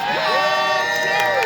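A crowd at a robot combat championship final cheers and shouts steadily, with whoops and children's voices rising and falling across the short stretch and no break in the noise.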